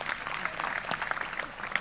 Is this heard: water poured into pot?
no